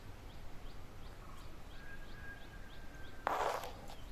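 Small birds call faintly in the forest on Paithalmala hill in Kannur, a string of short, evenly spaced chirps over quiet outdoor ambience, then a brief louder rustle near the end.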